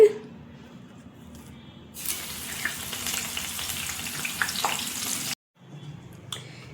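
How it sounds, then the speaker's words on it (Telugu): Garlic dropped into hot oil for crispy poha chivda. After a quiet start, a loud hissing sizzle bursts up and holds for a few seconds, then cuts off abruptly before a fainter sizzle resumes. "ఇప్పుడు ఎల్లిపాయలు వేపుకుందామండి."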